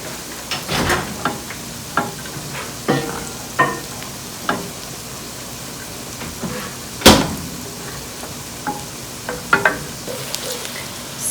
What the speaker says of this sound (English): we are continuous cooking our onion, and onion is almost like done too.